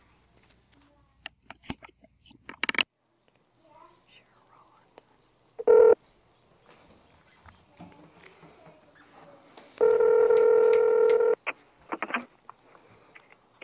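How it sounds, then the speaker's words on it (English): A telephone call being placed, with short bursts of dialing tones and a sustained ring tone, separated by quiet gaps with faint whispery noise. "I'm going to let you hear the phone call in which I spoke to the Institute of Justice."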